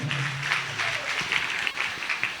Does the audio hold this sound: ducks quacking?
no